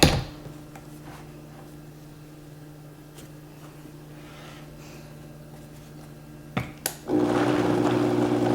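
A blender mixes tomato salsa with a steady, low motor hum at moderate distance. A couple of sharp clicks follow, then the whir grows louder and fuller near the end. No talking.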